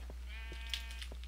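Sheep bleating on a farm in the Minecraft video game, a faint wavering bleat in the middle of a quiet stretch with light background noise.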